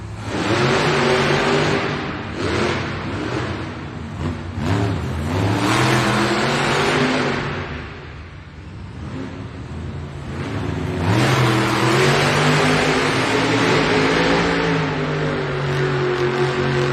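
Monster truck engines rev loudly and continuously at a Monster Jam arena event in Birmingham, UK, with El Toro Loco among the trucks lining up for head-to-head racing; the revs rise and fall in sustained surges and no one speaks.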